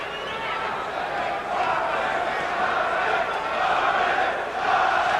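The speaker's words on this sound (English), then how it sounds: "Crowd starts to chant Marvin, Marvin" Boxing crowd at a WBC middleweight title fight for hometown favorite Marvin Hagler, a dense sustained roar of many voices swelling into a steady chant, loud and continuous throughout.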